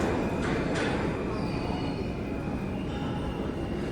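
A subway train rumbles steadily through Rockefeller Center station in New York, with a loud continuous roar of rail wagons and faint wheel squeals running throughout.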